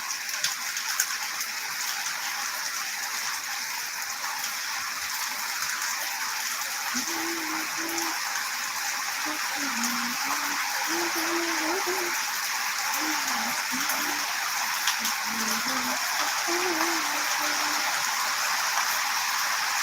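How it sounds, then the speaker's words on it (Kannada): Heavy rain pours in a steady, dense hiss throughout, while a soft voice hums quietly underneath through the middle. "ಮಳೆ ಇನ್ನೂ ಜೋರಾಯಿತು"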